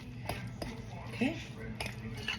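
A spoon stirs pea salad made with a mayonnaise substitute in a bowl, giving a few light clinks and scrapes of metal on dish at a close, moderate level, with faint background voices.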